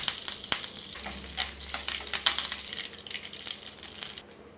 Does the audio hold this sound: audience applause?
no